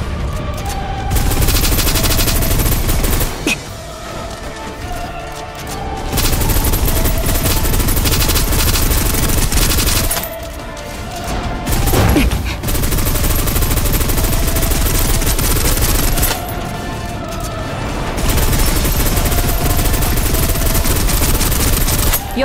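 Sustained bursts of automatic suppressive gunfire in the video game Snowbreak: Containment Zone, loud and dense, in several long volleys separated by brief lulls.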